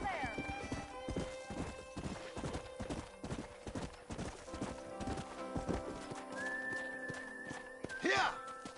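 Horse hooves clip-clop in a steady trotting rhythm in Red Dead Redemption, with a voice speaking over them and a horse whinnying near the end.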